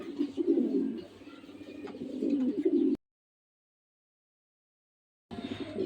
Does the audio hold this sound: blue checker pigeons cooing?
yes